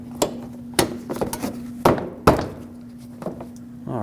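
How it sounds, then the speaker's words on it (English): A Lexus IS250 bumper cover is pressed into its plastic bracket below the fender, giving several sharp, close knocks and clicks spaced irregularly over a faint steady hum. "you want to make sure that it clips in and locks in"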